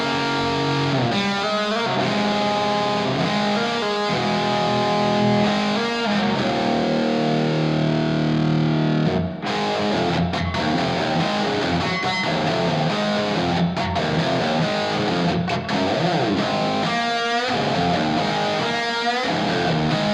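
Distorted rock music with heavy reverb, guitar riffs washing into a long echoing tail, loud and continuous.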